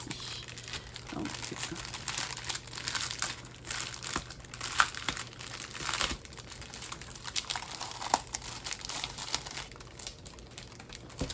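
Paper packaging around a diamond painting kit crinkles and rustles close by as it is unwrapped, irregular crackling bursts and sharp rips with no speech.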